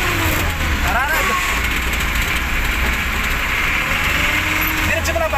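During student driving practice, a car engine strains with a loud, steady droning roar that fills the whole stretch, while people talk over it.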